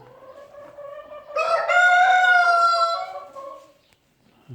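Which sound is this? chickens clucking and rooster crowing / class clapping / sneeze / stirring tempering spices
chickens clucking and rooster crowing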